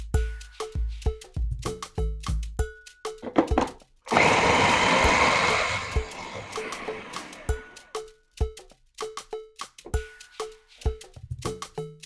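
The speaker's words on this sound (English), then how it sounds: "We will start by blending our red bell pepper, scotch bonnet pepper, cayenne pepper," A kitchen blender whirs loudly for about four seconds as it purees red bell pepper, scotch bonnet, cayenne pepper and onions, framed by sharp clicks, taps and knocks from handling the jar before and after.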